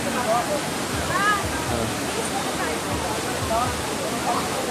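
Balagbag Falls, a waterfall in Infanta, Quezon, gives a steady broadband rush of falling water. It carries on evenly and fairly loud from start to end, with faint voices and calls now and then above it.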